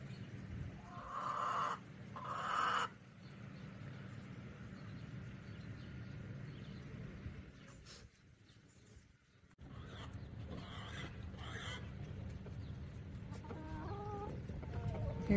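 Chickens cluck and murmur in a farm hen house, a steady close flock chatter with a couple of louder squawks early on and scattered calls throughout.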